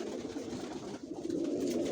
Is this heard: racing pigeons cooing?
yes